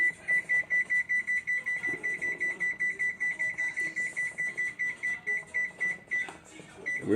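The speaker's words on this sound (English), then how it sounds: "put your timer on for 30 minutes" A kitchen timer beeps in a fast, regular pulse of close electronic tones for several seconds, then stops as it is set, followed by a short rustle.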